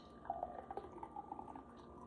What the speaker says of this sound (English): let's just pour a little bit of this out